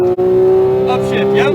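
A Porsche 911 GT3 (991.2) engine pulls at full throttle on a racetrack, a loud, steady high-pitched drone with a brief dip near the start, while a voice talks over the end.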